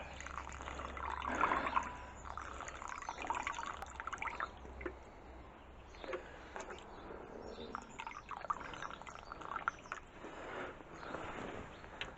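Water poured from a container into a bowl to soak coir for a seed kit, a quiet, close run of trickling, dripping and filling sounds with small splashes, no talk.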